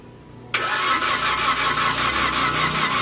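A 2015 Toyota Avanza with new spark plugs cranks without firing: after a quiet moment the starter kicks in abruptly and churns on steadily, loud and close, until the end.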